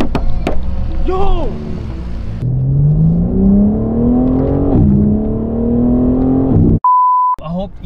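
Stolen Mercedes-Benz car driving, engine whirring and rising steadily in pitch as it accelerates, heard under speech, with early beeps and a long censor bleep near the end.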